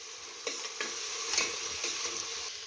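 Ginger garlic paste frying in a pan for chicken biryani gives a close, steady sizzle, with regular scraping stirs of a spatula and no voices.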